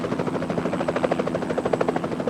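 A rescue helicopter hovers during a high mountain rescue, its rotor beating in a steady rapid throb with a droning engine hum, fairly close and continuous.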